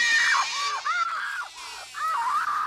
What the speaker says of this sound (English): except for the screaming.